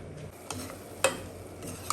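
A spoon scrapes and clinks against a pot as egg aviyal curry is stirred on a low simmer, with a faint simmering hiss underneath and a few sharp metallic taps.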